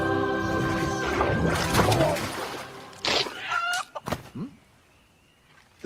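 Chicken clucking in a short burst alongside a rooster-like call, following a stretch of music and mixed sounds, with brief vocal-sounding notes near the end.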